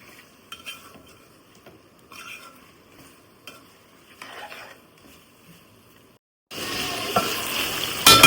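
Ginger garlic paste fries and is stirred in oil in a pot for chicken curry pulao, with scattered scraping clinks and soft sizzling, then a loud steady hiss of frying near the end.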